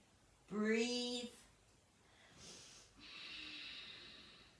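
Breathing during a standing yoga forward fold with hands holding the elbows: a voiced, sighing exhale followed by softer airy breaths, close-up and moderately loud against a quiet room.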